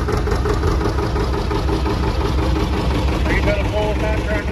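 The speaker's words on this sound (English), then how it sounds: "This is the first diesel produced by John Deere." The first diesel tractor built by John Deere idles at a threshermen and collector show, its steady low engine rumble continuous and loud with outdoor crowd noise around it.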